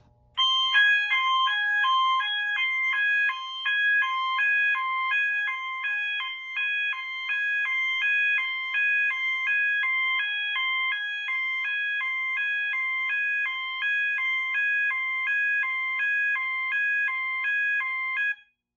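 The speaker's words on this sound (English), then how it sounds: "This will initiate a security alarm on the panel and activate that system sensor mass SMA horn that sets a high-low." System Sensor SMA horn on a Notifier AFP-400 fire alarm panel sounding a security alarm, a loud, rapidly alternating high-low electronic tone repeating steadily for about eighteen seconds before cutting off, with no voices.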